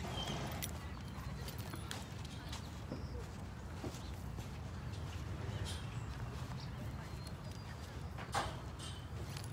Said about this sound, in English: There's so many horses over here.